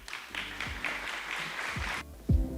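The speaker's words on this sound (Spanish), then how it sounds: "Un aplauso para ellos." Student presenters at a sustainable finance forum receive a short round of audience applause, a soft steady patter that cuts off abruptly, then a faint voice begins.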